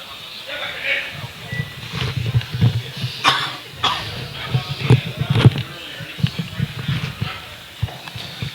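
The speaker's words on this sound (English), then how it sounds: "I'm coughing too." A man coughs repeatedly in short bursts, close by, at a powerlifting bench press championship with chalk in the air, with some rustling and faint background noise between the coughs.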